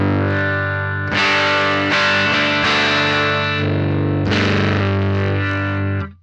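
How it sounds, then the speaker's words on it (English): An electric guitar through a Noise Engineering Dystorpia fuzz pedal, tone control turned up, plays heavily fuzzed, distorted sustained chords with a bright, buzzy tone, struck several times and then cut off abruptly. "so I'm gonna go ahead and roll the blend all the way back up so we're getting distortion"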